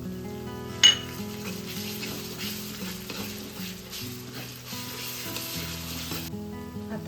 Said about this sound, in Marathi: आता यात आपण आले लसूणची पेस्ट टाकूया.